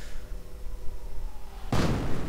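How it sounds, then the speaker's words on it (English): A German mortar fires in a WWII strategy video game, a single sharp blast cutting in near the end over a low steady background hum. "Medic station getting damaged as well by the German mortar"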